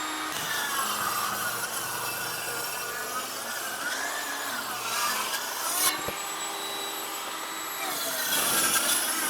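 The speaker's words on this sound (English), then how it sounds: "I can cut here between the knot holes and get all 4 pieces out of that" A wooden board with knot holes being sawn into pieces for a woodworking project, a steady close rasping cut that runs continuously for several seconds with small shifts in pitch.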